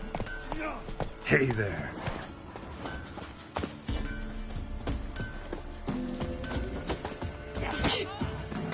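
Hooves of Roach, a horse in The Witcher 3, clop along at a quick pace under game ambience, with a brief spoken greeting and scattered clatter.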